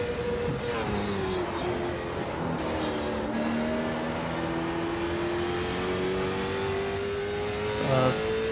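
Race car engine in the iRacing sim racing game, Mazda MX-5 Cup or late model stock, revving and shifting through gears with rising and falling pitch across a lap, loud and continuous.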